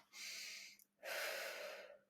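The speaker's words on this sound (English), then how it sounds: "I need to just maybe do my 5-finger breathing" Two slow, deep breaths taken close to the microphone during a five-finger breathing exercise, a long airy inhale followed by an equally long exhale, with a short pause between them.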